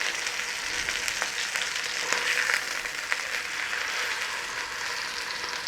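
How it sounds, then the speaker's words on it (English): A steak sears in a hot pan, producing a continuous moderate sizzle with scattered small pops and crackles, heard alone with no voices. "Get your pan hot, sear your steak."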